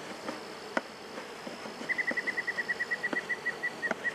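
Honey bees in an open hive during a burr comb removal produce a low steady hum, with a brief high insect whine rising in a regular pulsing run over the second half, close and fairly quiet.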